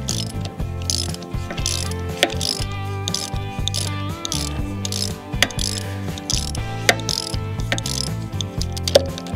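A socket ratchet clicks rapidly and loudly up close while working on a 1969 Kawasaki H1 500 Mach III motorcycle left sitting for 41 years, in repeated bursts of turning with brief pauses.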